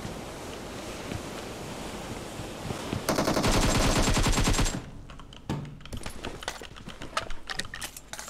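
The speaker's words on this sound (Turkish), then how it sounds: "Bir tane M4'le vurdum" M4 rifle fire in PUBG Mobile: faint game ambience, then a loud, dense automatic burst of about two seconds, followed by scattered quieter shots and clicks.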